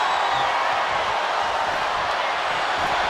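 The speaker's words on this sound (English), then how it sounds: "Drew McIntyre rallying the crowd behind him" An arena crowd in the wrestling video game WWE 2K26 roars steadily through a Hell in a Cell match, a dense, loud wash of cheering with no breaks.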